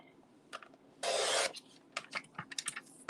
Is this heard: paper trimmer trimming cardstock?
yes